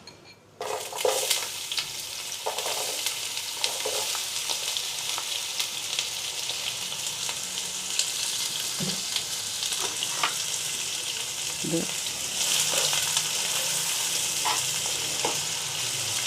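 Onions dropping into hot oil with fenugreek seeds for a fish curry, a sudden loud sizzle that settles into steady close frying, with occasional clinks and scrapes of a spoon against the pan.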